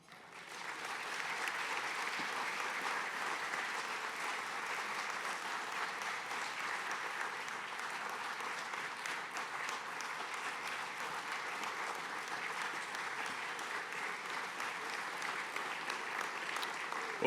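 Sustained applause from an audience at a regional chamber of commerce annual meeting in Northeast Indiana, greeting the Speaker of the House; dense, steady clapping throughout with no gaps, fairly loud and even.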